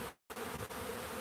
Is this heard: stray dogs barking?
no